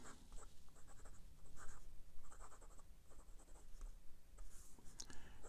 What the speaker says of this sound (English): Back with the writing portion of the review. This is Clairefontaine 90 GSM paper